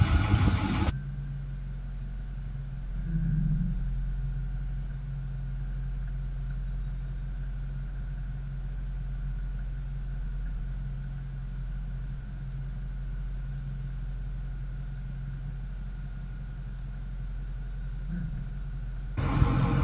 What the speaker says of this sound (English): now it's time to back up your truck to where the ball's right underneath this point